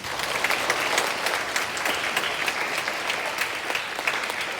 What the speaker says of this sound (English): So let's clap for Mrs. Rich.